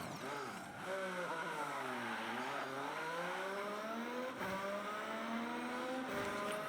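In the Forza Horizon racing game, a car drives through a city, its engine droning and revving as the pitch dips and climbs repeatedly with gear changes and acceleration, loud and continuous.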